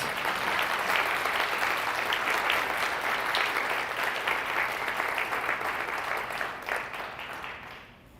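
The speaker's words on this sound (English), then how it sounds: "please give a big round of applause for everybody here who volunteers and supports Nourish Phoenix" A roomful of guests at a fundraiser breakfast applaud the volunteers, dense sustained clapping that holds steady for several seconds and then fades out near the end.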